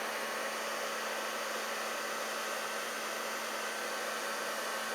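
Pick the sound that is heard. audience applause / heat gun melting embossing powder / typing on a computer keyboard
heat gun melting embossing powder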